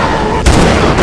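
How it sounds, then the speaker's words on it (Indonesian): A single sharp gunshot in a zombie film scene, a loud sudden crack that cuts abruptly into a low background rumble and then decays into a dense, lingering roar. "Jules berhasil menembak 2 orang Firefly yang membawanya"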